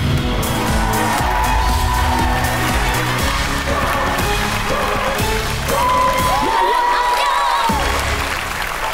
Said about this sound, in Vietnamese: Chúng ta cùng vỗ tay nồng nhiệt để chào đón nhân vật bí ẩn đầu tiên.